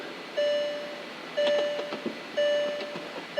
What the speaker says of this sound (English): Please ignore all the beeping at me